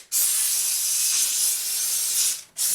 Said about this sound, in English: So I'm going to clean that wheel up with it too, while I have steam here.